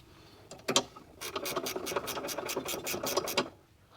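A nut being tightened on a Holden Commodore VT-VZ strut top, a short clicking spin followed by a quick run of rapid ratcheting clicks, close and fairly quiet.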